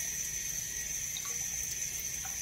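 Cold water runs steadily from a tap while bread dough is prepared, a constant close hiss and splash with no break and no voices.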